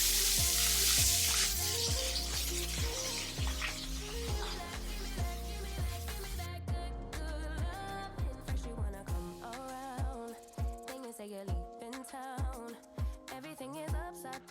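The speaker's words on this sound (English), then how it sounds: "So I'm gonna start frying." Food fries in a pan in a home kitchen, sizzling loudly at first and then settling into a quieter crackle, while a song with singing plays throughout.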